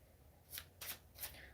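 Tarot cards shuffled in quick, soft riffling bursts, three or four brief papery flutters close up and faint.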